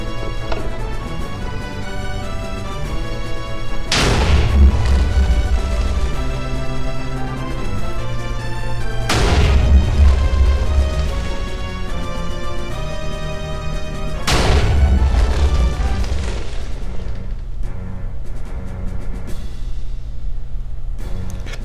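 A fully automated quad cannon firing in three heavy, evenly spaced booming volleys, each a loud close blast with a long ringing tail, heard alone without talk.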